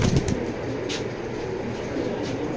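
Racing pigeons in a loft give soft, low cooing over a steady rustling background, with a few brief flutters and shuffles nearby.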